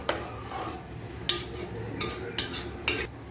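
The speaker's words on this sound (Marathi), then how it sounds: "छान असं मिक्स करून घ्यायचं आहे ढवळून घ्यायचं" A spoon stirs rice, water and salt in a pressure cooker, giving several sharp metallic scrapes and clinks against the pot at irregular intervals over a soft wet swish, close and clear.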